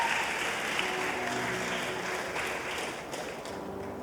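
A church congregation at a youth camp service claps together, a dense, even round of applause lasting a few seconds and tapering slightly toward the end.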